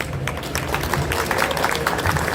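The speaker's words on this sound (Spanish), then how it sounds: "un aplauso para la autora" Audience applauding an author at a book fair forum in Guadalajara, scattered hand claps building into fuller clapping across a couple of seconds, fairly close and moderately loud.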